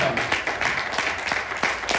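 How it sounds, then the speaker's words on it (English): Church revival congregation clapping together, a steady rhythmic run of loud hand claps with crowd noise blended in, filling the room throughout. "give the Lord a great big clap offering right now"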